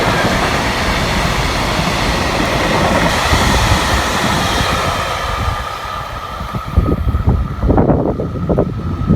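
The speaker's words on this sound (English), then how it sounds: "That's a freight train." A freight train rolls past on the Tokaido main line in Japan, a steady loud rumble of wheels and cars sustained throughout, with clanking bursts and wind buffeting the microphone toward the end.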